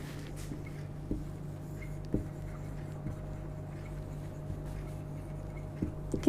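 Marker or chalk writing on a classroom board during a maths lesson: faint, intermittent scratchy strokes and taps at a slow pace over a low steady hum, with no talking.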